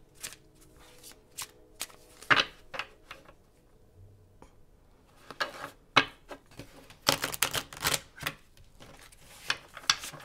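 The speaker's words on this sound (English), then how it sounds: "We're going to draw 5 more cards." Tarot cards are shuffled up close in bursts of quick riffling and flicking, with short pauses between runs and the loudest, busiest shuffling toward the end.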